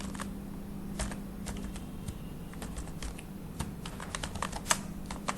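Code is typed on a computer keyboard, a steady run of light key clicks at close range with occasional louder taps, over a faint constant hum.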